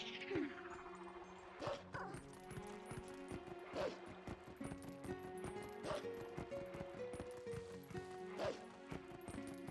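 Dog sounds from the video game Zelda: Twilight Princess: a handful of short yips and whimpers spaced a couple of seconds apart over a bed of tonal game music and ambience.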